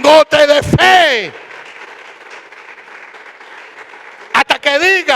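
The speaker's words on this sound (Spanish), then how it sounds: "Dale un aplauso al Señor." A church congregation claps together in sustained, even applause for about three seconds, with a voice speaking loudly just before and just after.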